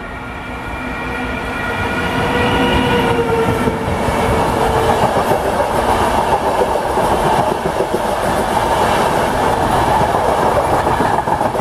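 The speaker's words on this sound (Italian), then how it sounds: "Attenzione, treno in transito al binario 1." A train passes through a station platform in the Bari area, a loud, close, sustained rumble of wagons with steady clickety-clack over the rails that holds for the whole passage.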